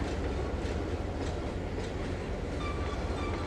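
A train rolls along rails in the Trainz 2022 simulator game, a steady dense rumble with faint rhythmic clicking of wheels, continuous and without speech.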